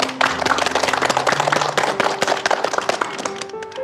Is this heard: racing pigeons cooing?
no